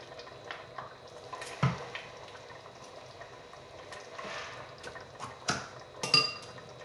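Coq au vin with morels and vin jaune or red wine simmering in a pot, a soft continuous bubbling with occasional louder pops and clinks, fairly quiet and close, no voices.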